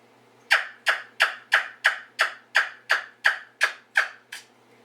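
A homemade wing bone turkey call, boiled bird bones with a curved mouthpiece, blown in a run of eleven sharp, evenly spaced yelps, each a bright rasping chirp that fades quickly, close and loud with no voices.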